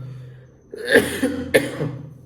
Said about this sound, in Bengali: কাশিটা কন্টিনিউ হচ্ছে